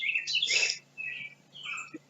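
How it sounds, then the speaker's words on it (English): A loud bird in a backyard chirps close by in short bright bursts, a dense trill followed by two shorter calls separated by brief pauses, with no voices. "that's a really loud bird"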